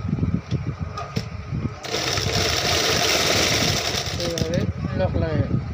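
An overlock sewing machine runs a lock stitch over thick fabric with a fast, loud mechanical whirr for several seconds, with a few short clicks before it starts and a voice talking briefly near the end.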